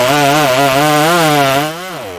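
A Stihl 026/MS260 chainsaw engine runs loud and close, its buzzing pitch rising and dipping with the throttle before dropping to a lower idle.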